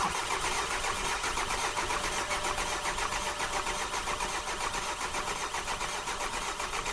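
An older car engine, poorly maintained by a previous owner and cranked with the throttle closed while fuel lines are being refitted, turns over and runs with a loud, steady, close mechanical churn throughout; one brief word is spoken.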